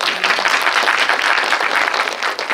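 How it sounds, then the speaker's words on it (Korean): Brief, loud burst of audience applause for the director at a film screening Q&A for Cassiopeia, dense clapping throughout that dips just before the end. "감독님께 박수 한번 부탁드릴게요."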